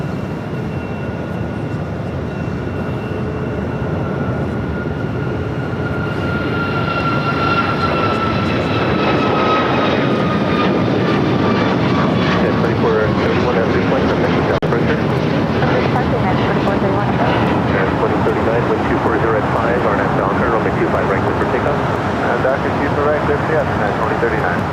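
A United Airlines jet takes off at LAX, its engine roar rising and thickening into a loud, sustained rumble with a falling whine, while a voice talks over it.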